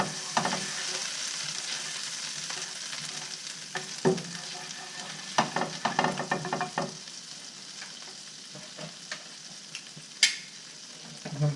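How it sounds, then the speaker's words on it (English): Pecan bits, brown butter and olive oil left from cooking fish melt over low heat in a pan, giving a soft, quiet sizzle broken by intermittent stirring scrapes and small pops. "So we're going to get all these pecan bits and the brown butter and olive oil from cooking the fish melted down"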